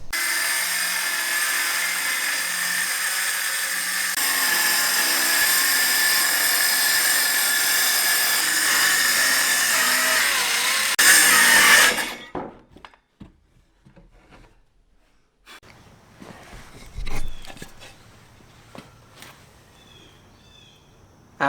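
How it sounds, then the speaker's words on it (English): Router fitted with a rabbet bit cutting plywood van floor panels, a loud continuous high-pitched whine that lasts about twelve seconds and then cuts off, followed by quieter clunks and handling knocks. "After cutting the pieces of plywood to fit into the van, I'm going to rabbet joint them together"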